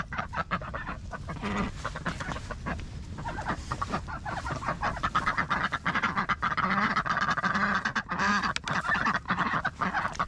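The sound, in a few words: ducks quacking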